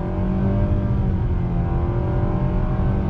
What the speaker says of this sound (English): let me do a little acceleration test here for you